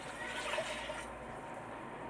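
Water poured from a cup into rice for coriander coconut rice, a steady close splash and trickle running continuously for about two seconds with no talk.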